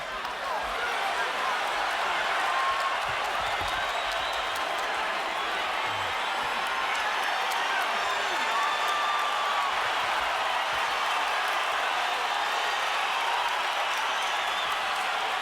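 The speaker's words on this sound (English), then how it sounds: "I'm trying to figure out why the crowd is excited." A dense, excited crowd roars steadily at a boxing match late in the fifth round, with a constant broadband wall of cheering, shouting and scattered clapping that stays loud throughout.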